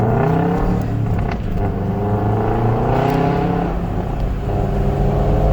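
A Subaru WRX engine revs up hard under acceleration on its first test drive after a new transmission, a loud, steady rising drone that fills the clip without pause.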